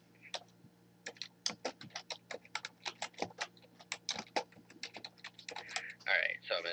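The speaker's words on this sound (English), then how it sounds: "I'm going to type in e-delivery" Rapid keystrokes on a computer keyboard while typing into a financial analytics web tool, clicking in quick irregular bursts close by, with a soft steady hum underneath.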